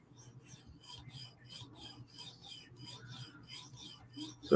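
Repeated strokes of a Hinderer knife on a fine 5,000 grit whetstone make a soft, rhythmic rasping, about ten even passes, close and quiet, ending in a louder knock.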